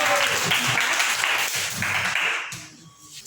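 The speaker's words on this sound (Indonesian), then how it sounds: "tepuk tangan dulu buat kelompok 4." Classroom applause for a student group after their presentation, a brief burst of many hands clapping that fades out near the end, with faint voices underneath.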